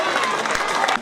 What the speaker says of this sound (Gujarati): જોરદાર તાળીઓ પાડીશું ભાઈ આપણે.